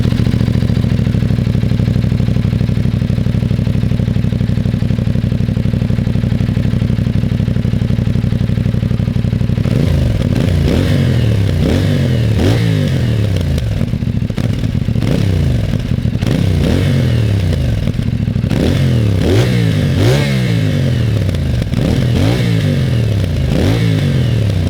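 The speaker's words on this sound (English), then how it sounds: "its 270-degree crank means that it makes a lot of beautiful noises" A 2023 CFMOTO 450SR motorcycle with a 270-degree crank and stock exhaust idles with a lumpy, uneven beat, then revs repeatedly in sharp blips, close by and loud.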